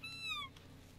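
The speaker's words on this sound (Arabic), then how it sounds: "هذا الذئب. الذئب، هذا ذئب." Animal call in the video game Call of the Wild, a wolf by the game's account, heard as a short, clear, high whining cry with falling pitch in the first half-second over a low steady game hum, then quiet.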